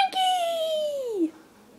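A cat lets out a single drawn-out meow that slowly falls in pitch and ends after about a second, loud and close in a quiet room.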